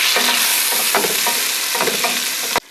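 Tomatoes drop into sizzling garlic and red chili paste for beef pulao, a loud steady hiss of frying with scraping stirs repeating through it before cutting off abruptly.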